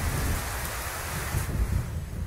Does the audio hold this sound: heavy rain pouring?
yes